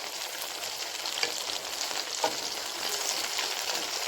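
Tomatoes for a tomato pickle fry in a pan with a steady, close sizzle, stirred constantly with a few soft scraping taps and no talking.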